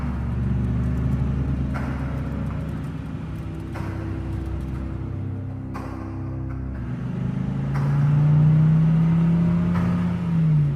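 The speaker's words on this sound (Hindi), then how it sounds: "आलोक भी अपनी जीप को लेकर बाबा के बाइक के पीछे पीछे चला जाता है।" A cartoon jeep and motorbike on a rough, bumpy forest road, a steady low engine rumble and whir that swells to a louder revving drone near the end, with brief clunks at intervals.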